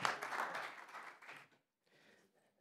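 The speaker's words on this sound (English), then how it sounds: "Let's give a big round of applause to this panel." Audience applause for an industry leaders panel, a moderate burst of clapping that fades out within about a second and a half, followed by a brief, faint scatter of a few more claps.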